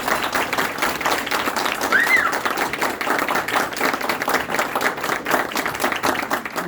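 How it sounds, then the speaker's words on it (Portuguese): Audience applause for a speaker, Dr. Paulo, at a lecture event: steady dense clapping from a crowd, even and sustained throughout, with a brief whistle-like tone partway through. "eu peço a todos uma salva de palmas para o Dr. Paulo"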